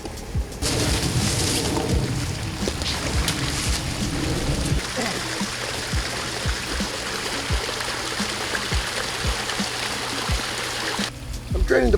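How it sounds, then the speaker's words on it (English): Water drains steadily from a garden pond with a broken filter, a continuous close rushing and trickling that runs through the whole stretch with a faint hum under it. "I'm draining the pond"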